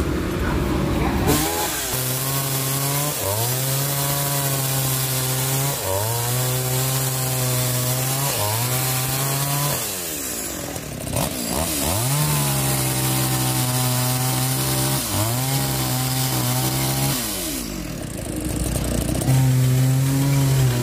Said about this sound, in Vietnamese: giờ anh Tùng tiếp tục ra cưa các bạn đây